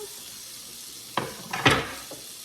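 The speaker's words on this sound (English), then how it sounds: "with my butter, I'm going to put the onions that I chopped. Just saute those up a bit to soften them." Chopped onions hitting melted butter in a pan on medium heat, a steady hiss broken by a few sharp sizzling bursts as they are stirred, close and fairly quiet.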